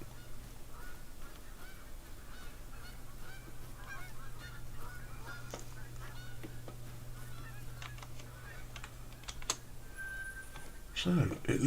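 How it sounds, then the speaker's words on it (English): Geese honk repeatedly at a distance in the Call of the Wild hunting game, scattered calls over a steady low hum, with keyboard clicks and a voice talking. "I can hear geese now"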